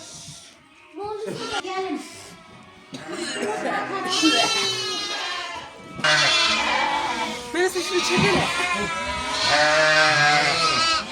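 A lamb bleats repeatedly, loud and close, its wavering cries mixed with people talking nearby, including a child.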